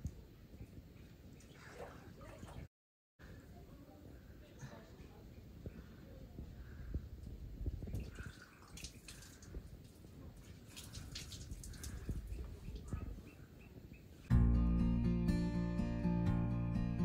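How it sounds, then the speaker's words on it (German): Shower water running steadily in a guesthouse bathroom in Guatemala, a continuous soft splashing hiss with a brief dropout, ending in a sudden burst of louder music. "Gut duschen."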